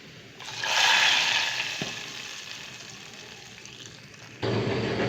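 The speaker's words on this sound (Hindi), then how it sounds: "अब इसी में मैं तड़का लगाऊंगी।" Garlic tempering in hot oil for moong dal tadka gives a loud burst of sizzling and frying that gradually settles into a steady crackle, with a brief clatter near the end and no talking.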